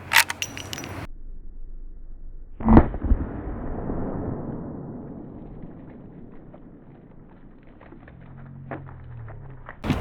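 A .44 Magnum handgun fires once at a cabbage target outdoors, giving a single sharp, loud bang with a long fading echo. A brief burst of noise comes before it, and faint rustling follows.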